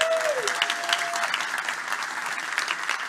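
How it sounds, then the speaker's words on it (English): An audience at the opening of a human rights forum at UN City in Copenhagen claps steadily, with a brief tonal chime at the start and scattered voices under the applause. "give her a round of applause while she's coming"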